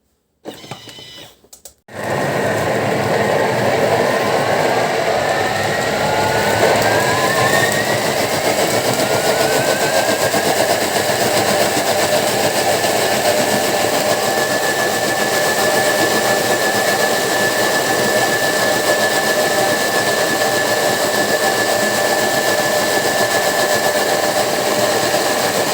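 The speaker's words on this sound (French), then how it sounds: "Et on mixe au plus fort." A Thermomix TM6 blends apple and banana compote at top speed, a loud, steady motor whine with rising pitch sweeps and grinding texture that starts abruptly after a brief rattle and runs continuously throughout.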